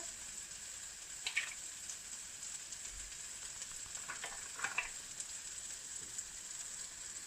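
Scrambled eggs sizzle softly in a frying pan while being stirred, with a steady quiet hiss and a few brief scraping clusters from the utensil.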